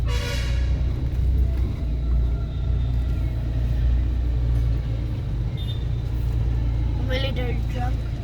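Military truck rolling past on a forest road through a wildlife sanctuary, a loud steady low engine rumble that fills the whole stretch, with a brief brake hiss near the end.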